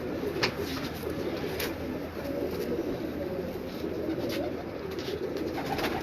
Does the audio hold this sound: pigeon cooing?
yes